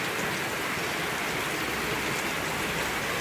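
Heavy rain falls during flooding in the canton of Osa, with floodwater currents rushing through a school yard in a steady, dense roar that stays loud and unbroken throughout, and no voices.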